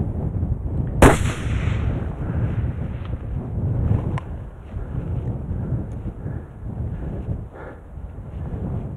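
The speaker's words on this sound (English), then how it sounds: "I had just a split second to decide, pick, and make the shot." A single sharp, loud rifle shot fired at a pronghorn buck on open ground, cracking about a second in and trailing off into a brief rumbling echo over steady wind.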